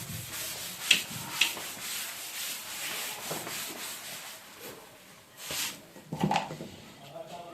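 Chalk or marker writing being rubbed out on a board in a classroom-style grammar lesson, heard as a few soft scrubbing strokes with sharper swipes near the start and end, quiet and close, with a voice talking over it.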